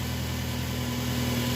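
A car engine idles steadily after a tune-up, warming up with a smooth, even hum and no misfires, close and continuous throughout with no talking.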